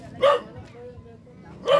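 A dog barks twice, close by, with a pause between the sharp barks and some low background noise.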